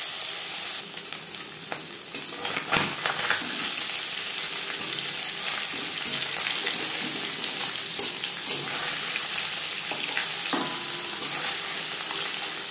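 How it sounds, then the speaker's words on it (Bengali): Small turmeric-rubbed mourola fish fry in mustard oil in a pan, giving a loud, steady crackling sizzle with occasional sharper pops throughout, and no voices over it. "মাছ হালকা করে ভেজে নেব।"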